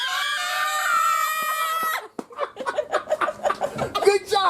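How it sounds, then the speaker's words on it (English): Young children scream together on cue after a countdown, loud and sustained for about two seconds. Choppy giggles and chatter follow. "And now you gotta scream."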